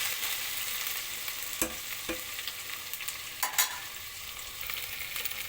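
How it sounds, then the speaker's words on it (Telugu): Vegetables fry in oil for khichdi with a continuous close sizzle, broken by a few sharp scrapes and taps of a spoon stirring the pan; no one speaks. "ఇది చాలాసేపు ఆయిల్లో ఉడకనివ్వాలి."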